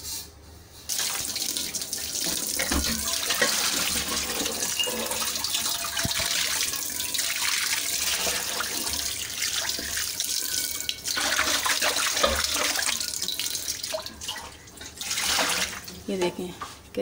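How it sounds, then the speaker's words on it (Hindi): A steel kadhai being rinsed under a running tap in a kitchen sink: a steady, close rush of splashing water runs almost the whole time, with small surges as the pan shifts under the stream. "अब मैं पानी से धो लूँ फिर आपको दिखाती हूँ।"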